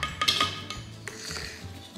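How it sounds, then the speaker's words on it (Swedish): A whisk clinks and scrapes rapidly against a bowl while batter is beaten, close and busy with irregular metallic taps. "Så vi vispar upp"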